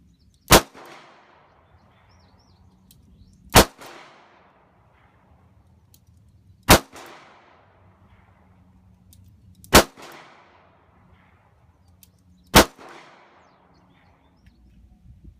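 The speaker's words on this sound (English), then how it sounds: "what I just shot, the Kahr P380" Five sharp, loud pistol shots from a Kahr P380 ring out at an even pace about three seconds apart, each a crisp crack with a short echoing tail, with quiet background between them.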